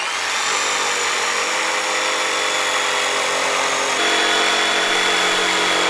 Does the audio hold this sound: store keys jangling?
no